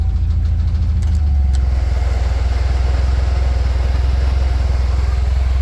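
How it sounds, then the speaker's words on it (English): A 1955 Willys Wagon's engine idles steadily up close with the air-conditioning compressor engaged, a low continuous rumble with a faint mechanical whine, holding even throughout with no voices. "you turn the AC on, the compressor comes on, and that pulls the RPMs down just a hair"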